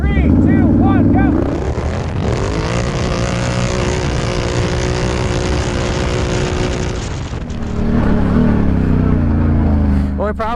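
Raptor 700 and Renegade 1000 ATVs accelerating hard in a drag race on grass, loud high-revving engines rising in pitch through gear changes, close and continuous, with a voice shouting over the start.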